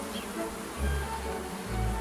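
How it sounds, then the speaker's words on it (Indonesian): Honey bees fanning their wings inside the hive to move air and thicken nectar make a steady, close insect buzz with low humming swells throughout. "lebah mengepakkan sayapnya dan menciptakan aliran udara di dalam sarang"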